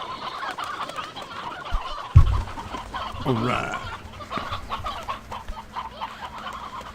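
A large backyard flock of chickens clucks and chatters continuously at close range, with a brief thump partway through and a man's short spoken remark.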